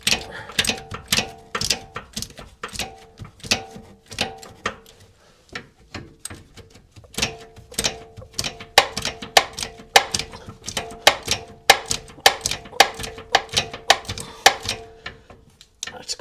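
A spanner clicking at a nut on a Jaguar XK X150 rear upper wishbone, rapid close ratcheting ticks in uneven bursts with short pauses between.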